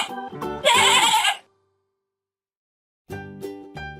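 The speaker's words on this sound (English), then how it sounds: "Where is the sheep? Very good. Sheep." A sheep bleats in a farm-animal sound game for kids, one loud wavering bleat followed by a brief silence and then two or three shorter bleats.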